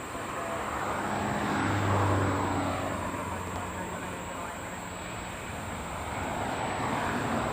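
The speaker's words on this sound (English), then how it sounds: "Beautiful takeoff off to Seoul." An Asiana airliner takes off from LAX bound for Seoul Incheon, a steady broadband jet roar that swells slightly and holds at moderate distance, with a low engine rumble beneath.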